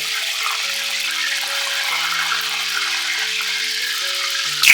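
Brinjals fry in oil with a steady, even hiss that stays constant throughout, under soft background music, ending with a brief louder clatter.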